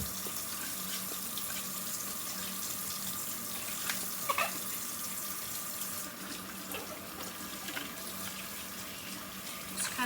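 Water from a sink faucet runs steadily as dirty hair filters are rinsed under the stream, a continuous close splashing wash with a few brief clinks and no talking.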